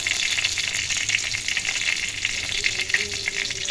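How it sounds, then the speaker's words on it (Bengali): Bay leaves and fried winter vegetables crackle in hot oil in a pan, a moderate, continuous close-up sizzle with light spattering and no talking. "তেজপাতা দিয়ে দিলাম,"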